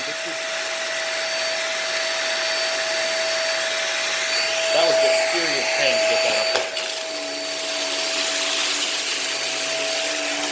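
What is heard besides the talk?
Hoover React Pro Pet vacuum cleaner running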